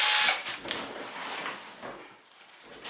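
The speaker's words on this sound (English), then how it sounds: "We got the drill bit with the screwdriver bit on it." A power drill fitted with a screwdriver bit drives screws into wood while a carved hobbit door is assembled, a loud burst of whirring at the start, then lower, uneven motor and handling noise that fades.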